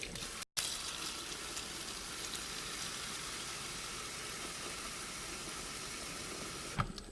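Water poured steadily into a rock tumbler barrel loaded with rocks and soap, giving a continuous rushing hiss that stops briefly near the start and then runs on evenly, with no voices.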